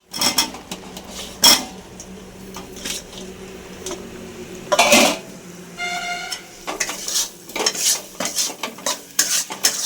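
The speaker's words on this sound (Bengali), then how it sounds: "এবার একটু কষিয়ে নিয়ে আলুগুলো দিয়ে দেব।" Tomato masala and potatoes stir-fried in a pan for crab curry, a spatula scraping and clanking against the metal in irregular strokes over a low sizzle, with a few louder knocks and no talking.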